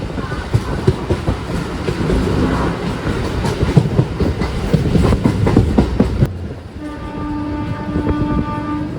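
Kanniyakumari–Kollam MEMU passenger train running on rails: a loud, close rumble with rhythmic clickety-clack, then a quieter stretch where sustained horn-like tones sound near the end.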